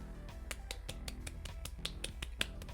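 Soft golf clap, a steady series of about fifteen light, evenly spaced claps, crisp and close but quiet, with no talking.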